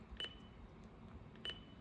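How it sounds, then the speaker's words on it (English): Two short electronic beeps from a Regency Polaris VHF/FM marine radiotelephone, spaced about a second apart, faint against a quiet room hum. "Private channels, which is beeping anyway."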